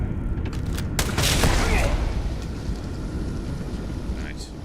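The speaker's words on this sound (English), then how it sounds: "Who's shooting now?" Gunfire in Starfield rattles out in a short burst of sharp cracks over a rumbling, windy background, with a person talking over it.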